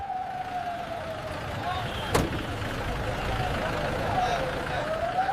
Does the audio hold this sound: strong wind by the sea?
no